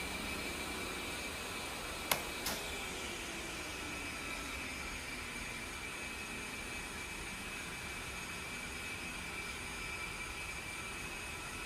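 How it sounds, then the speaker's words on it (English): In an A-10C flight simulator, a steady jet engine and APU whine drone evenly throughout, with a couple of faint clicks early on and no voices. "we can shut down the APU"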